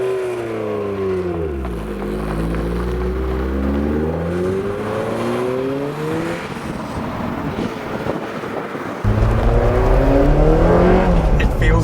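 Peugeot GTI hot hatch engine heard from inside while driving, with a loud, steady rumble that rises and falls through revs and gear changes, then swells strongly again near the end over rushing road and wind noise.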